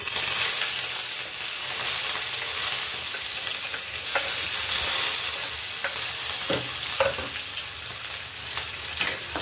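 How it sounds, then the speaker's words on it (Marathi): Garlic and green chili fry in a pan with a steady, close sizzle, broken by scattered clicks and scrapes of stirring throughout. "फ्राय करून घ्यायचं लसूण आणि मिरचीला"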